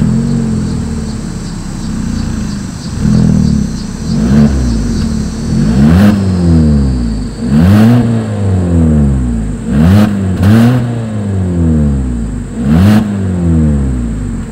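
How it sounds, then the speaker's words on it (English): A 2020 Hyundai Kona AWD crossover with a single exhaust outlet revs repeatedly at idle, each close, loud blip rising and falling in pitch over a steady hum. "As always, here is that exhaust clip."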